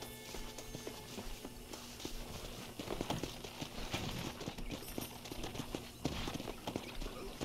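Steady clip-clop of horse hooves walking in the video game Red Dead Redemption, moderately close, over a constant background hum with faint voices underneath.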